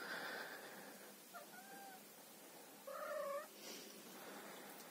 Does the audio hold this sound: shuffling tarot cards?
no